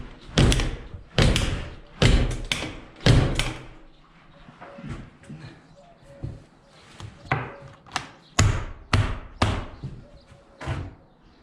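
Repeated heavy wooden thuds as a door is pushed shut and knocked against its frame, several loud impacts in uneven bursts with quieter scraping between.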